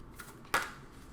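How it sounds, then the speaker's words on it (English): Tarot cards being shuffled by hand close up, a soft riffle followed by one sharp snap of the deck, quiet and alone without talk. "I try to be very careful when I shuffle these cards"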